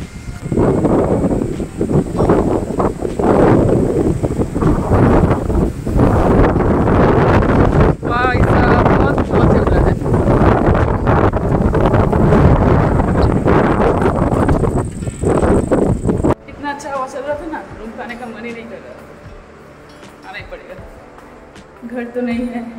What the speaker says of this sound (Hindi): बाहर आज बहुत मस्त हवा चल रही है, ठंडा ठंडा सा